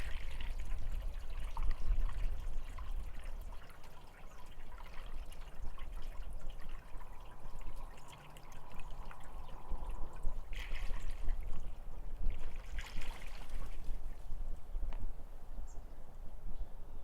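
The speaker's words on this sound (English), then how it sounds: "we're refilling the coolant and checking for leaks as we go" Coolant pours into the radiator of a 1940 Allis Chalmers B tractor, a steady, moderately loud watery trickle with a few brief splashing surges near the end and no voices.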